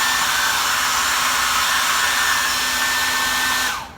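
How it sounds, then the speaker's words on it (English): A hair dryer blows steadily and loudly, rewarming wax on painted fabric, with a constant whooshing hum and a high whine that runs unbroken before the dryer switches off at the end. "you're going to go back through with a hair dryer"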